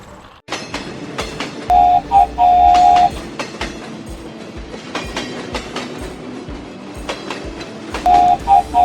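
A train rumbles past with rhythmic clickety-clack of wheels on rails, and a horn sounds twice in short bursts, loud and close.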